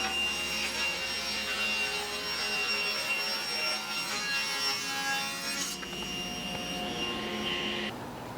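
Table saw ripping plywood in a woodworking shop, a steady loud whining blade and cutting roar held for several seconds before the pitch shifts near the end, close by with no talking.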